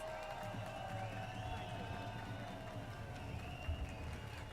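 Steady applause from a rally crowd, dense and continuous, with a low hum and a few scattered cheers underneath.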